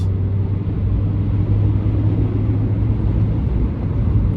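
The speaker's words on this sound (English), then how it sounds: "So now I'm going to pick up my speed." A car picks up speed on a dual carriageway, a steady low engine drone and road rumble heard from inside the cabin, with no talk.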